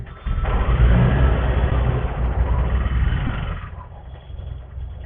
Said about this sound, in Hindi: ट्रैफिक बहुत ज़्यादा है।